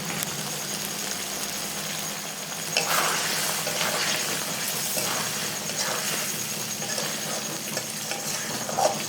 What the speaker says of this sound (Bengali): চিনি দিয়ে আবার একটু নাড়াচাড়া করে নিলাম।